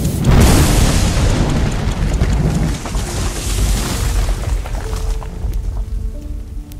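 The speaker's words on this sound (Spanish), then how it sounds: "En el momento de la explosión" Loud explosion of an explosive device during a military exercise with infantry battalion soldiers, a heavy broadband boom at the start followed by a long rumbling, debris-like roar that slowly fades over several seconds, with no voices.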